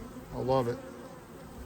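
Honey bees in a strong summer colony at an Ozark hive give off a low, steady drone, with a man's brief remark rising over it midway before the buzz settles back to a soft hum.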